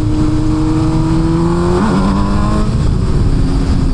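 A Kawasaki Z900 SE motorcycle engine revs loud and close, its steady drone swelling and shifting pitch under throttle with no talking over it.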